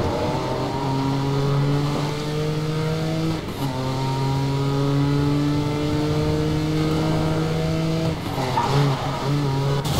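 Racing car in the video game Need for Speed Most Wanted (2012) roars with a steady, loud high-revving engine whine throughout, shifting pitch briefly as it loses grip and skids, with no talking.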